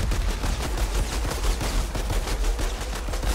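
Rapid gunfire from dual pistols in the video game Outriders, a dense, continuous stream of close, loud shots with no pauses across the whole stretch.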